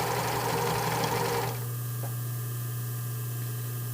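Sewing machine running steadily while stitching around a stretchy brief made from fabric with low recovery; a loud, even whir for about a second and a half, then it stops, leaving only a low hum.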